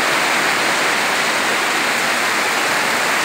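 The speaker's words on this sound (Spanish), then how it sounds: "Una linda lluvia y refrescante después de este sol." Steady rain falls at a countryside ranch, an even, dense broadband hiss that stays constant and close throughout with no voices.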